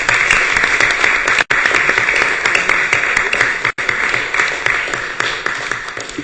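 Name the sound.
applause in an assembly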